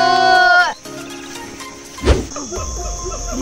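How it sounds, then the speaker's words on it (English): A Javanese gibbon (Hylobates moloch) calls in the forest of Gunung Gede Pangrango National Park: a short wailing harmonic note is followed by a lower, buzzier tone, over a bed of insect chirring, with one dull thump. "That's a Javanese gibbon, or in the biology call we said Hylobates moloch."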